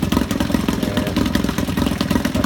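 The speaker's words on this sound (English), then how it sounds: "The interesting thing about this outboard is that it's air cooled." A vintage Yamaha 3.5hp air-cooled outboard motor runs steadily close by, a loud, even, rapid engine clatter with no pauses and no voices.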